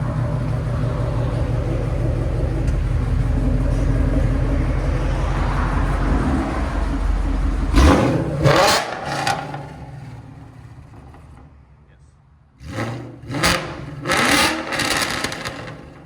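A 2012 Ford Mustang Boss 302 with headers, a Corsa Sport muffler and an E85 tune idles with a deep, steady burble. It then fires off sharp throttle blips whose roars rise and fall away, and a second pair of revs follows.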